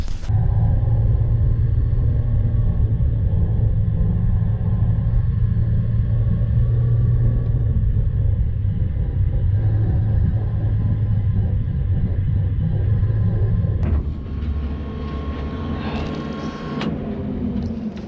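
A Cummins-swapped monster truck engine runs and drives with a deep, steady diesel rumble close by, easing off near the end as the tone shifts, with no voices.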